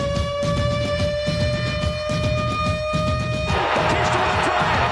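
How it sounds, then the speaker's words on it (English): A siren sound effect plays on a sports radio show, a sustained wailing tone with bright harmonics that holds steady over rumbling crowd noise, then gives way to a louder burst of crowd roar near the end. "Here comes the siren."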